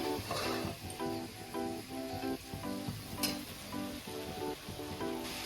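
Fried vegetables added to a sizzling pan for a Bengali stem-vegetable chorchori with prawns and bori hiss and crackle continuously, with repeated rhythmic stirring scrapes.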